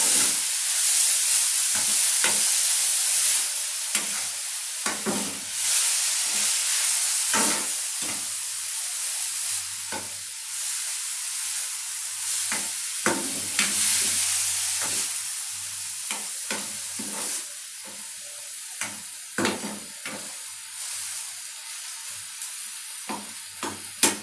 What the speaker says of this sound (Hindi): एप्पल हमारे फ्राई हो चुके हैं।